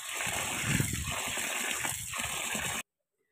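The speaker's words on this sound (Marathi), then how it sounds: "अजून मी 2 पाण्याने धुवून घेणार आहे ज्वारी।" Sorghum grains are washed by hand in water, producing close, continuous sloshing and gurgling with small splashes for nearly three seconds before cutting off to silence.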